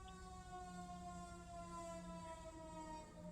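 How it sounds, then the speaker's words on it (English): An emergency vehicle's siren wails at a distance, a faint but steady tone sliding slowly in pitch against a low traffic rumble. "Are we done with the sirens now?"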